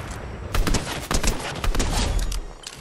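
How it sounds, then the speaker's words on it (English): Gunfire in a video game, with rapid shots and short bursts of a firefight crackling at mid distance, some volleys overlapping as the shooting carries on through the moment. "Oh, people shooting behind us."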